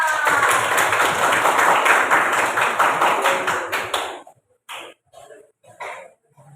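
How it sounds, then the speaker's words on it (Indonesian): An 11th-grade sociology class applauds, with a burst of dense, close clapping that holds for about four seconds, then thins to a few scattered, separate claps. "Tepuk tangan dulu lah"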